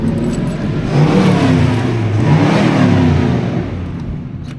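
A 327 V8 engine in a 1969 Chevrolet Impala revving up and settling, a loud, close, rumbling rise and fall of engine roar with no talking over it.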